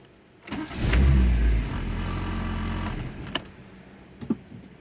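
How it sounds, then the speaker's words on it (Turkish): A Fiat Tempra running on petrol cranks briefly, then catches and starts, its engine settling into a steady idle up close, followed by a few small clicks. "arabayı benzinde çalıştırınca bakın ne şekilde kapıyor"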